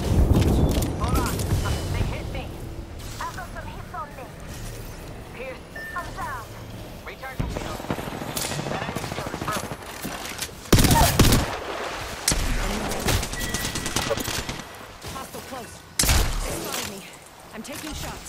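Gunfire in the battle royale game Apex Legends on the Olympus map, with bursts and louder shots cutting through a busy mix of game sounds while a player speaks over it.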